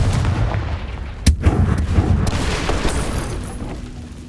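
Confringo blasting spell exploding in Hogwarts Legacy: a sharp, loud boom stands out over a dense, rumbling battle din, followed by a few smaller impacts.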